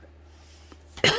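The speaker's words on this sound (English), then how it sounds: "You'll hear I'm still coughing a little." A single short cough bursts out close by after a near-silent pause, abrupt and throaty.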